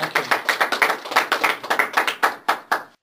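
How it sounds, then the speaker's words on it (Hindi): Applause welcoming everyone at a church gathering, a quick run of about fifteen sharp, evenly spaced claps that sound more like a few hands than a large crowd. "और हम एक बार फिर जोरदार तालियों के साथ सबको वेलकम करते हैं"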